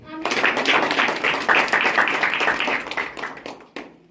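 A congregation at a Sunday church service claps together, a brisk burst of many hands with rhythmic peaks, fairly close and steady before tapering off at the end.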